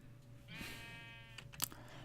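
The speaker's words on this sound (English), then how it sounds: "Oh, sheep! Perfect." A single sheep bleats in the Minecraft video game, a faint drawn-out wavering cry under low background noise, followed by a few soft clicks.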